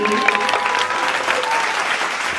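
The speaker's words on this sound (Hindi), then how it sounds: "जोरदार तालियां हो जाए हमारे मोबाइल का चक्कर परफॉर्मेंस के लिए।" At a school annual day function, an audience applauds a performance about mobile phone use with loud, dense clapping that holds steady throughout, with faint voices mixed in.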